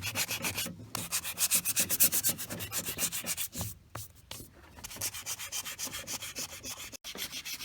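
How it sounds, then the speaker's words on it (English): A Volvo DP-C1 outdrive is sanded before priming, giving close, rhythmic back-and-forth rubbing strokes that repeat steadily with a couple of short pauses. "So first we got to sand it"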